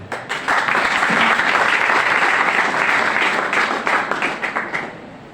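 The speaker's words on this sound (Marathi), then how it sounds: "त्यासाठी एकदा तुम्ही टाळ्या वाजवल्या पाहिजे." Students at a Class 12 farewell ceremony in a Marathi school hall give their teachers a loud, sustained burst of applause from many hands, which swells quickly, holds, then tapers and dies out.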